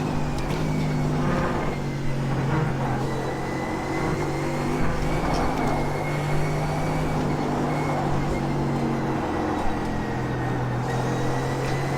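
A Mercedes GT3 race car in the iRacing simulator drones steadily with a loud engine note, with gear shifts adding small changes in pitch throughout.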